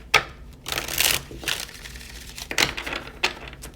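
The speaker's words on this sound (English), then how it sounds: "2 more shuffles" Tarot cards are shuffled by hand in several short riffling bursts separated by brief pauses, close and fairly quiet, with soft papery crackles between them.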